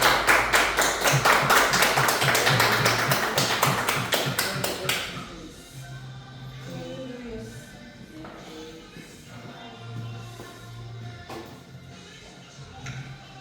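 A church congregation claps rhythmically in unison for about five seconds, loud and close, then stops abruptly, leaving quieter room sounds and faint voices.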